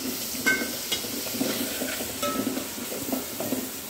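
Green chillies and dry spice masala sizzling in hot oil in a pan for tomato char, a steady frying hiss with a few light stirring clinks and scrapes.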